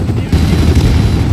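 Gunfire in Call of Duty: Black Ops crackles in a loud, dense burst of rapid shots and booms throughout, with some voice-like sound mixed in.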